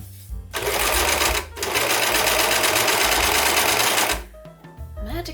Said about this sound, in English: I'm making good use of my serger for making the ruffles. So I'm turning everything up.